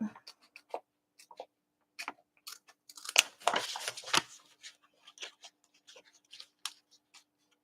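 Scissors snip through fabric for a tote bag, making quiet, irregular clicks and short rustling cuts close by, with a denser burst of slicing partway through and no voices.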